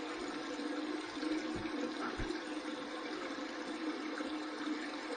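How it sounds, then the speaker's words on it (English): Cold water runs from a tap in a steady, close rush, continuous and unchanging, with no voices. "I'm going to flip it to the cold water side and let that cold water"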